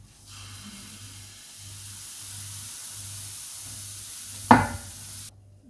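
A pancake fries in a pan with a steady, soft sizzling hiss that builds slightly, broken near the end by a sharp scrape or clatter, with a low rhythmic hum beneath.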